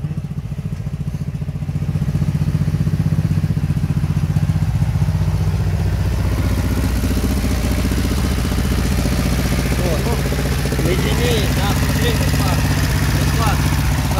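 An old ZAZ-965 Zaporozhets car engine with a bad spark plug idles roughly and misfires, an uneven, sputtering exhaust note, close and loud, with voices talking over it.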